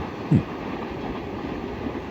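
Freight train rumbling past in Japan, a steady low rolling roar with one brief squeal near the start, continuous and fairly loud, without talk.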